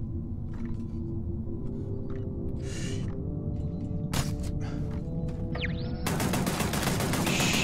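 Gunfire from a turret fight in Starfield, sustained rumbling fire under scattered sci-fi effects, building into a loud dense barrage over the last seconds.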